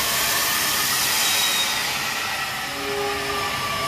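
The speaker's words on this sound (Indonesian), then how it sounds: "rangkaian kereta api Argo Wilis dengan nomor perjalanan 6" An Argo Wilis passenger train stands beside a station platform, giving off a steady loud hiss and hum of idling equipment with faint tonal whines, continuous and close, with no voices.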